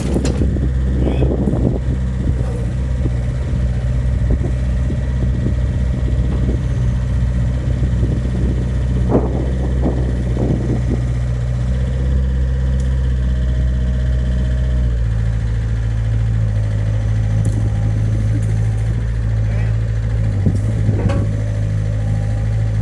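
A 2006 Takeuchi TB53FR excavator runs steadily at a loud idle, with the low engine drone shifting partway through as the arm lowers and raises, and brief hydraulic and mechanical clunks rising above it.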